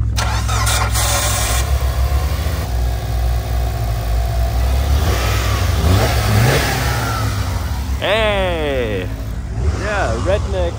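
A Nissan R35 GTR engine cranks and fires in minus 15 degree cold, then idles and is revved in several rising sweeps, loud and close, with people talking around it.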